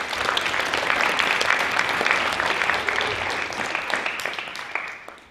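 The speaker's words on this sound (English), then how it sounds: "So let's give them a round of applause, please." Audience applause fills a hall during a high school hall of fame induction ceremony, a dense, steady wash of clapping that holds for about five seconds before tapering off.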